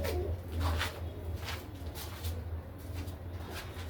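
Domestic pigeons, kept for breeding, coo in soft repeated low calls nearby, steady and unhurried against a quiet background with no talking.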